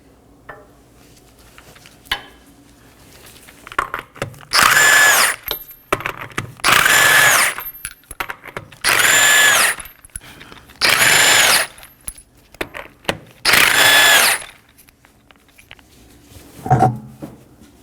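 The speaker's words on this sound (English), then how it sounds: "I'll be using a 21mm socket to remove the 5 lug nuts." An impact tool spins the five lug nuts off a Nissan Maxima rear wheel with a 21mm socket, giving five loud, evenly spaced bursts of about a second each, separated by quiet clinks and handling noise.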